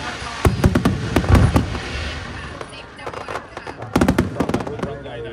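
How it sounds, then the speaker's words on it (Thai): A large fireworks display at Wat Khao Din Tai temple crackles and booms in rapid clustered bursts, loud and echoing, with pauses between volleys and crowd voices murmuring underneath. "เป็นการจุดพลุที่ยิ่งใหญ่ที่สุด"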